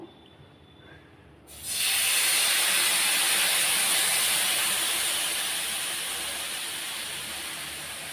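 Rava dosa batter hits a hot griddle and erupts into a loud, close hiss of sizzling that begins abruptly after a quiet moment, then slowly eases while staying strong to the end.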